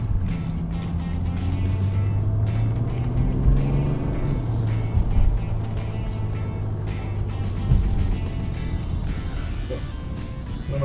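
Steady engine and road noise from a Mercedes CLS 350d diesel on a test drive, a continuous low hum with tire rumble that swells slightly a few times, heard from inside the cabin with no talk.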